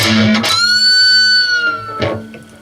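An electric guitar sounds a squealing pinch harmonic that is bent and released, sustaining clearly, followed by a second picked note.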